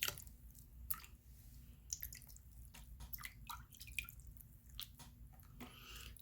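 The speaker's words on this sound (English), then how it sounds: "So I'm just going to rinse my face off." Water splashes and drips as a face is rinsed at a sink, with soft wet squishing and irregular trickles, close and fairly quiet.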